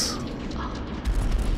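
Strike suit missiles fired in the space combat video game Strike Suit Zero, a dense rumbling burst of launches swelling into deep booms near the end, loud and close.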